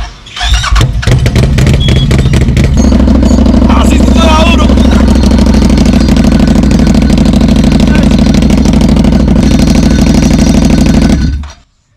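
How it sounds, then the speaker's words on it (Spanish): A CFMOTO CForce Overland 1000 ATV engine with its exhaust pipe removed revs up and then runs steadily, a harsh, raspy roar close by with a brief squeal early on. "Vamos a ver cómo suena sin tu escape."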